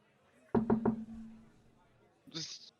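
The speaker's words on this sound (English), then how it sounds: "I'm gonna go to Mayon's room, knock on the door." Three quick, firm knocks on a door, evenly spaced and close, ring out briefly before fading; a voice speaks shortly afterward.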